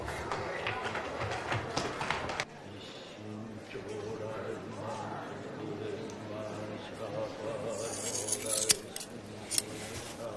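Scissors cut through hair in a few sharp metallic snips near the end, heard against a busy background with voices.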